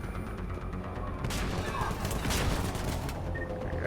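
Shotgun blasts and surrounding gunfire in the video game Mass Effect 3, a dense, loud burst of shots and booms crowding together.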